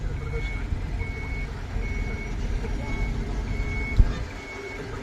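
A reversing tipper truck beeps in regular evenly spaced pulses under a low engine rumble, with a short knock near the end and voices faintly in the background.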